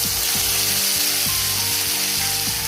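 Onion and tomato paste sizzling and frying in hot oil with whole cumin, a steady dense crackle with a few faint clicks and scrapes underneath, close and continuous.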